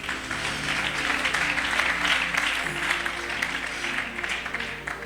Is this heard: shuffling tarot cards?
no